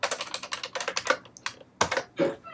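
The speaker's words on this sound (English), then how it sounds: "I didn't type in the capitals right" Someone types a command on a computer keyboard while working with C code, a quick run of close, crisp key clicks in uneven bursts, pausing briefly before a few final taps.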